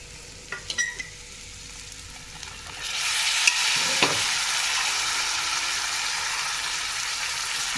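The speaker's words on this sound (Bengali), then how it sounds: "তো এখন আমি এর ভেতরে মটর সেদ্ধ করাটা দেবো, দিয়ে একটু নেড়ে নেব।" Boiled peas stirred into an oily frying mixture in a pan for a vegetarian pea-and-paneer pulao, with a few clanks of a spoon against the pan and then a loud, steady sizzle continuing to the end.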